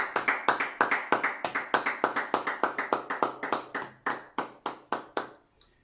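A congregation claps together in acclaim of the Lord after a prayer, about twenty crisp, evenly spaced claps that slow slightly and fade out at the end.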